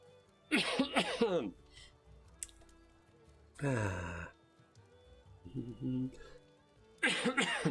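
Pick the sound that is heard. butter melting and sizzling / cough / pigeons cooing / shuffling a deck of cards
cough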